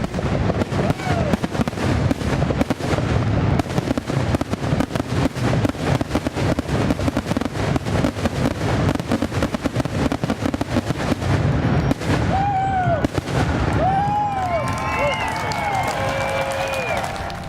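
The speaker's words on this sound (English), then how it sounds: "On Saturday night, residents began gathering on the shores of the lake for the fireworks show." Fireworks burst over a lake in a rapid, continuous barrage of loud cracks and booms building toward a finale, with whistling rockets rising near the end and crowd noise underneath.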